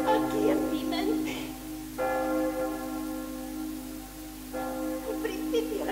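Church bells ring as a stage sound effect during an amateur theatre performance, resonant tolling strikes that swell and decay in overlapping waves, fairly loud with a steady low hum beneath.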